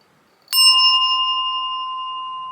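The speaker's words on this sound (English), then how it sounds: "So first up is the bell." A small altar bell is struck once and rings out with a clear, sustained metallic tone that slowly fades, alone in a quiet room.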